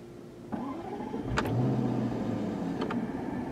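A 2016/2017 Jaguar XJL engine starts with a brief crank and settles into a smooth, steady idle close by, while the gear shifter of its 8-speed automatic rises.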